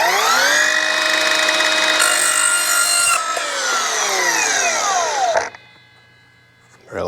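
An Evolution R255SMS-DB-Li cordless multi-material miter saw cutting 2-inch PVC pipe: a loud, close, high whining blade pitch that sags under load through the cut, then cuts off sharply into quiet motor wind-down before a brief restart.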